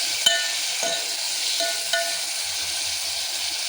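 Tomato with ginger-garlic paste frying in a pan for palak sambar, a steady close sizzle with a few soft stirring clicks and scrapes.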